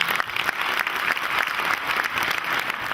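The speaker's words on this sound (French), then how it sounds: "Je vous demande de l'applaudir," An audience at an indoor lecture claps to welcome a guest speaker, a dense, steady burst of applause lasting a few seconds.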